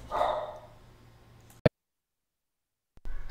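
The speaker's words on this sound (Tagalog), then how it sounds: "meron ng dumadaan-daan na aso eh" Dogs passing outside bark faintly and briefly at a distance, followed by a sharp click and then near silence.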